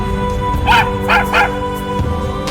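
A small, weak and dirty stray puppy gives three short, close, high yipping barks in quick succession, with a faint whimpering quality, over a steady background hum.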